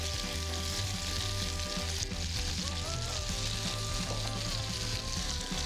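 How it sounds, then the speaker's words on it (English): A small piece of cheese melts with margarine in a pan, giving a steady, close sizzling and crackling that runs continuously with no speech. "Just gonna let the cheese to be melted."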